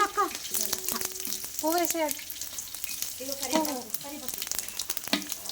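Whole spices and bay leaves fry in oil for Telangana bagara rice, a close crackling sizzle with stirring clatter, while a voice speaks over it at intervals.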